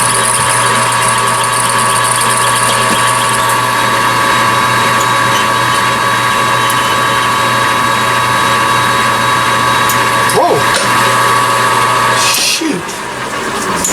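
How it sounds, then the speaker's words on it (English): A metal lathe runs steadily as a cutoff tool cuts along the outside diameter, giving a continuous motor hum with a high whining tone, close and even, with a brief shift and clatter near the end. "I'm cutting OD with the cutoff tool."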